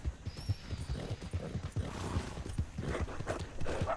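Horse hooves clip-clop in a steady walking rhythm in the video game Red Dead Redemption 2, moderately quiet and close, with faint game ambience behind.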